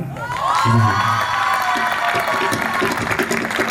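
An audience at a ministry programme breaks into loud applause and cheering after a performance, with whoops and children's shouts in a dense, sustained burst and a voice briefly heard over it.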